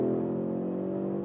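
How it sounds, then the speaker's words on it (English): An Audi RS3 five-cylinder engine drones steadily while accelerating on a track, a close, even hum with no voices, heard only briefly. "And you hear a lot of the engine"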